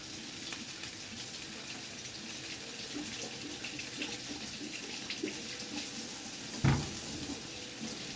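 A kitchen tap runs steadily while a bell pepper is washed under it, a soft continuous hiss of water with light splashes and one brief knock near the end, no talk.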